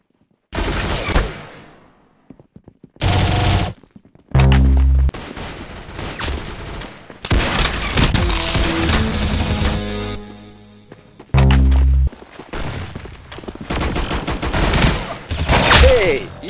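Bursts of video game gunfire, loud rapid volleys and single heavy shots, come in several separate stretches with brief silences between them, with talk heard at times.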